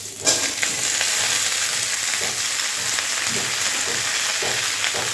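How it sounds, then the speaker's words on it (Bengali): Chopped, washed ash gourd pieces go into a hot pan of oil while cooking a hilsa fish curry. A brief burst at the start settles into a loud, steady, close sizzle with no voices. "এখন আমি দিয়ে দিব কেটে ধুয়ে রাখা চাল কুমড়ো।"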